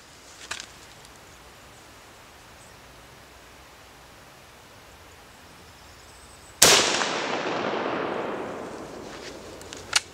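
A single loud Carl Gustav 1896 Mauser rifle shot fired outdoors at a propane tank, a sharp crack followed by a long decaying rumble, after several seconds of quiet ambient background.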